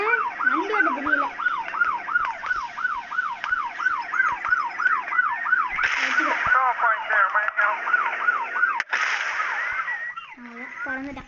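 Police car siren in the video game Dude Theft Wars wails in a fast, repeating up-and-down pattern, loud and continuous, shifting tone partway through and fading near the end, with brief voice sounds in the background.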